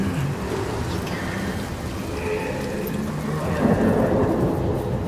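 A thunderstorm from the sea giant in the video game Hellblade 2 gives steady heavy rain under a continuous low rumble of thunder that swells near the end, loud and with no voices.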